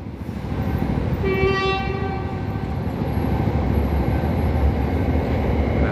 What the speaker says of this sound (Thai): น่าจะเป็นพวกขบวนพิเศษสินค้านะครับ